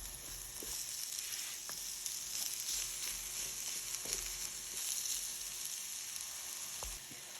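Zucchini sizzling steadily in oil in a frying pan, a soft constant hiss with occasional faint clicks and scrapes of stirring, no talking.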